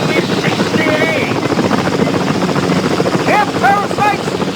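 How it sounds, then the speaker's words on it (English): A helicopter hovers close by at a busy hospital emergency department, its steady rotor drone filling the scene while several people talk urgently over it. "get that new chopper out of my airspace"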